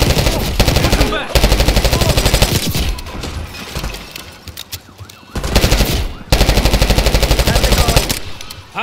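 Rapid machine gun fire in Call of Duty Black Ops 6 comes in long loud bursts separated by short pauses, with shouted voices and battle noise between volleys.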